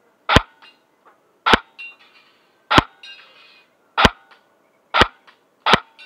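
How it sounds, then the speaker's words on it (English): A Double Eagle Honey Badger airsoft gun fires six sharp single shots at cans about 40 to 45 feet away, evenly spaced roughly a second apart. Each crisp snap is followed by a faint tinny clink from the targets, against near-silence. "I'm gonna take some shots at those Evite cans over there"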